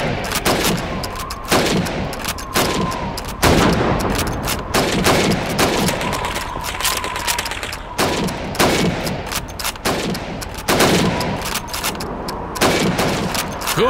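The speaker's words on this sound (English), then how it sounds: "You have 15 seconds to shoot the helmets." Rifle shots at helmets on a training range in Call of Duty 2, loud close cracks repeating every second or so over a steady layer of distant battlefield gunfire.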